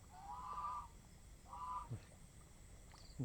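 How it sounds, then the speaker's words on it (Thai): Two loud goose honks, each drawn out and nasal, followed by a few short clicks and knocks, with no talking, at a pond. "ห่านพี่น้อง"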